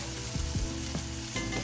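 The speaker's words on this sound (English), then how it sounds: "there goes that sizzle we like" Food sizzling steadily in a cast iron pan over light oil while breakfast omelette ingredients are set in, with a continuous close frying hiss and a few soft thumps as pieces are placed or stirred.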